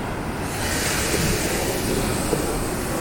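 Ocean surf at Marshall's Beach in San Francisco makes a constant broad wash of waves mixed with wind rumbling over the microphone, close and steady with no talking.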